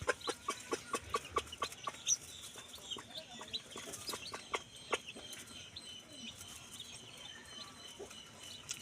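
Chickens on a farm cluck repeatedly in a quick, uneven series, with sharp calls early on that thin out later, heard at moderate distance over a faint outdoor background.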